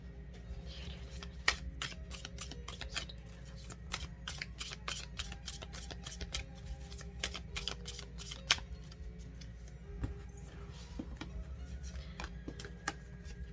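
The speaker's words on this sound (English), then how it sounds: "give me a few seconds so I can focus on shuffling the cards for you" Tarot cards being shuffled in repeated quick riffles, sharp crisp clicks and flutters coming in bursts, close up with no talking.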